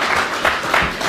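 A brief burst of audience applause at a religious lecture, dense steady clapping from many hands, fairly loud and continuous over about a second.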